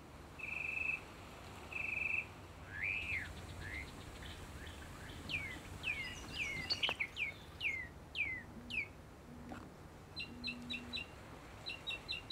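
Trans-Gulf migrant songbirds such as wood warblers singing, a series of clear whistles, rising slurred notes and rapid chip trills, moderately near over a faint steady background hum.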